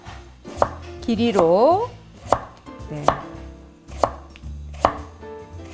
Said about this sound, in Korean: 그러면 요거 물기 빠지는 동안에 무채를 썰을 건데요